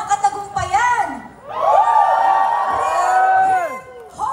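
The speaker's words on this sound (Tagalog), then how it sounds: "Isang malakas na sigaw ng katagumpayan!" A crowd shouts and cheers at a rally in California, loud collective yelling and whoops swelling into a sustained roar, preceded by a brief mix of voices and shouts.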